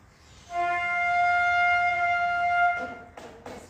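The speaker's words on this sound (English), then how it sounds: "if I were to play an F natural on the modern flute" A single F natural sustained on a modern flute, bright and resonant with strong overtones, held steadily for about two seconds before the breath releases, followed by faint rustling.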